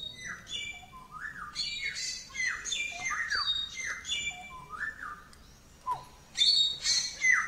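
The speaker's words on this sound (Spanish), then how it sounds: "Unos sonidos relajantes no vendrían mal, unos pajaritos." Small birds chirp and squawk in repeated short calls, fairly close and lively, with no voices.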